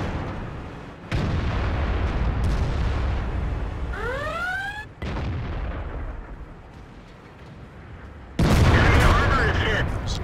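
Heavy cannon shots and explosions from World of Tanks, where an IS-7 heavy tank is fighting, come as several loud, separate booms with echoing tails over a constant rumble of battle.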